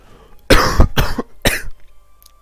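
Three harsh coughs in quick succession, close and loud, separated by brief gaps and then silence.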